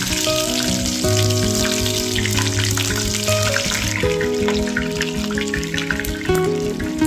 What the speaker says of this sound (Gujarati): રાઈ એકદમ સરસ મજાની કડકડીને ફૂટી જાય